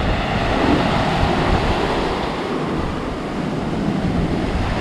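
Sea waves wash and splash on the rocky shore in Tenerife, a continuous loud rushing surf mixed with wind buffeting the microphone, with no speech.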